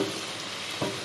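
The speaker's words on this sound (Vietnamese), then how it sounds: "Chiên này nhanh lắm." Bánh tiêu dough frying in hot oil, a steady broad sizzle that swells briefly near the end as the puffing dough is stirred or turned, close by with no talk.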